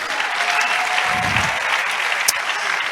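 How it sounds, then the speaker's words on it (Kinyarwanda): A church congregation breaks into sustained applause for God during a worship service. The clapping is dense, loud and steady throughout, from a large crowd close by. "Reka dukomere Imana amashyi menshi"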